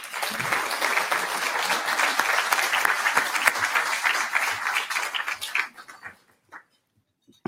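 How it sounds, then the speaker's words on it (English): A large audience at a sports Hall of Fame induction ceremony breaks into sustained applause, loud and dense for several seconds, then thins out to a few scattered claps and fades. "Let's give a round of applause."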